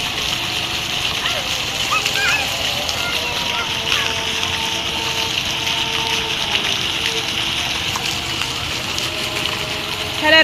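Water gushes steadily from a colour-changing decorative fountain, a continuous loud splashing rush with people talking nearby.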